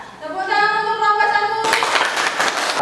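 Classroom applause for a student group after a discussion presentation, a burst of many hands clapping that starts after a voice and continues loud and steady to the end.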